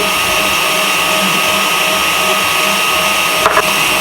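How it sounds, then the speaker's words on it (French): An electric mixer at moderate speed whips egg whites with sugar added in stages, a steady loud motor whir and drone running unbroken throughout, with a couple of faint knocks near the end. "à vitesse modérée, eh bien, les blancs montent avec le sucre ajouté en 3 fois"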